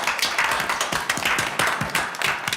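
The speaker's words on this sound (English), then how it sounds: "get a round of applause" Sustained applause from a crowd at a public works committee meeting, dense clapping throughout at steady loudness, with no talking.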